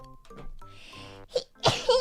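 A young woman's sneeze bursts out loud and close, a sharp high-pitched double burst with an inhaled lead-in, preceded by her own voice making sounds during a livestream.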